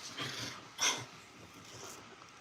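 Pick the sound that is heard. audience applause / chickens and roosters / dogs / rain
dogs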